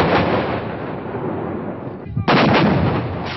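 Bofors artillery guns firing shells in battle make a dense, continuous roar of booms and blasts, briefly dipping before a sharp loud burst resumes the barrage.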